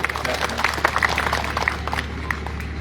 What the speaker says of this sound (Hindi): जोरदार ताली बजा दो भाई।